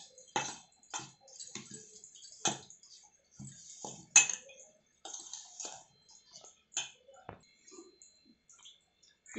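Mustard and fenugreek powder mixed for mango pickle, heard as a series of close, distinct clinks and taps of a spoon against a bowl in an irregular rhythm over a quiet background.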